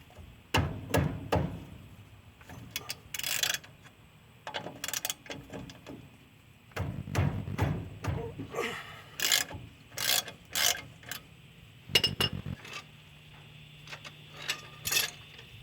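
Mechanics work on the front suspension spindle of a 1955 Cadillac Coupe DeVille, making close, irregular metallic ratcheting, clinks and taps in short bursts with brief pauses between, with no talk.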